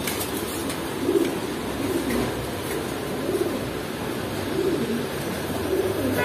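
A pair of pigeons with ash-coloured eyes, kept at a pigeon shop in Kaptan Bazar, coo in short, rounded phrases at regular intervals over a busy, noisy background hum.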